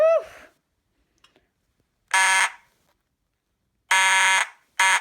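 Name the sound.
fire alarm being tested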